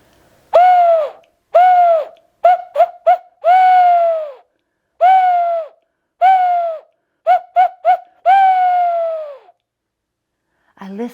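A human voice imitates an owl, giving a series of hooting calls in irregular groups, some single, some quick doubles and triples, each falling slightly in pitch, close and clear with silence between.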